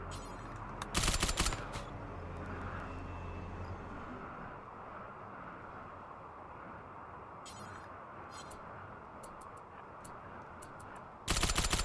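Video game gunfire in short loud bursts of rapid automatic shots, one early and one at the end, with a few faint distant rattles between them over a steady low rumbling background.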